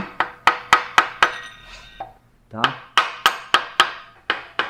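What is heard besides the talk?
light taps with nylon-faced hammer seating cylinder sleeve, Gurgel engine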